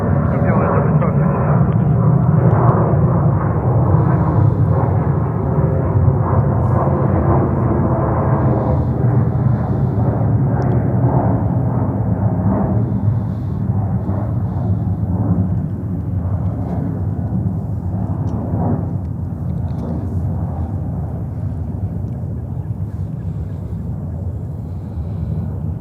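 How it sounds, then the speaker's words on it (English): A Delta Boeing 767-400 arriving from Madrid lands at JFK airport in New York, its broad jet roar loud and near at first, then slowly fading, with radio and voices talking underneath. "This one is Delta, flight 127, a 767-400 coming in from Madrid"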